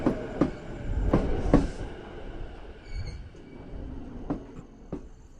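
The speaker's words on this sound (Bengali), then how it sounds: "সঞ্জু চোখটা খুলে দেখল ট্রেন মধ্যমপুর স্টেশনে আর একটা স্টেশন পরেই টাকি যেখানে ও নামবে" A train rumbles along with rhythmic clacks of wheels over rail joints and a brief metallic squeal, steady and moderately close with no voices.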